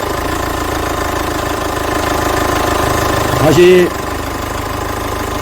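Steady low engine rumble of a car idling after an engine oil change with residual-oil removal, continuous and fairly loud, with a brief voice and a short tonal squeal partway through.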